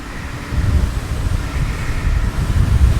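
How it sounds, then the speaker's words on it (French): Strong headwind buffeting the microphone while riding a Teverun Fighter 11+ electric scooter at speed, a loud low rumbling roar that gusts and surges unevenly throughout, with no talk. "On a un vent de face de malade mentaux."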